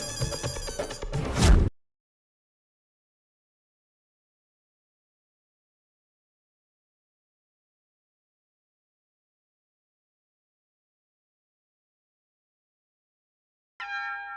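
An electronic telephone ring sounds briefly, followed by a long stretch of silence, then the ringing starts again at the very end.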